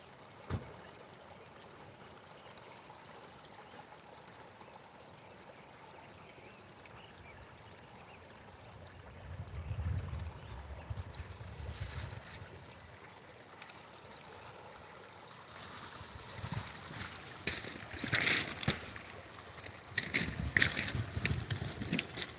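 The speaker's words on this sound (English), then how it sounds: "you can sit there and watch Josh feed his sluice box for a second" Water running through a sluice box being fed by hand at a gold prospecting bar, a steady outdoor rush and trickle that swells in waves, with splashes and sharper clatters toward the end.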